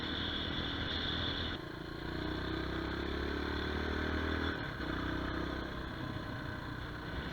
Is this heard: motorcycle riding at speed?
yes